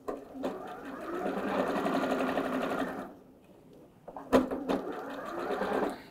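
Close sewing machine stitching satin with lace, a steady run of about three seconds, a brief pause with sharp clicks, then a second shorter stretch of stitching.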